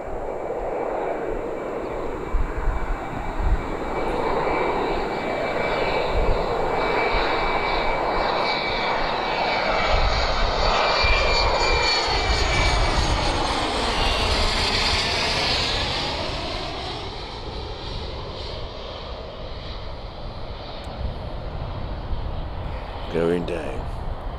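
A fixed-wing airliner flies near Malaga Airport, its engines giving a steady, moderately distant roar that swells and sweeps in pitch as the plane passes, with a brief clatter near the end.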